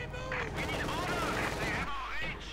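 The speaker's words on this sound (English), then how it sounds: "half-track has arrived here for Mr. Penguin, opening up with his dual 50 calibers and the 37mm anti-aircraft gun" A half-track's dual .50 calibre machine guns rattle in rapid, continuous bursts during a Company of Heroes 2 match, the battle noise loud and dense beneath an excited commentator talking over it.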